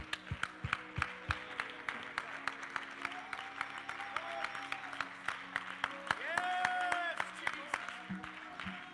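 Congregation at a church worship service claps hands in a steady, even rhythm, sharp regular beats repeating throughout while voices and a sustained sung or shouted tone carry underneath.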